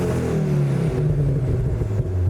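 A Ford Focus ST exhaust on the Mod A engine map revs close by, a deep rumbling drone with rising and falling pitch and a few small pops, fairly subdued overall.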